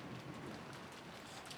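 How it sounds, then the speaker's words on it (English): Heavy rain pours down steadily in a rainstorm scene from the Umineko visual novel game, a dense continuous hiss with faint low rumbling underneath, quiet and without voices. "Outside, the rain poured down heavily."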